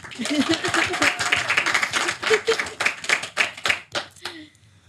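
An audience claps steadily for the Indonesian dangdut couple Lesti and Billar in a TV studio, the applause dense and rhythmic for several seconds before thinning out, with a voice briefly heard at the end.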